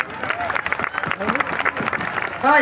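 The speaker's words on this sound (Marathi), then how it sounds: "त्यांच्यासाठी जोरदार टाळ्या झाल्या पाहिजे" Audience applause at a Samata Sainik Dal gathering in Amravati district honouring the Bhima Koregaon Vijaystambh, a dense clapping wash with voices carrying over it throughout the short burst.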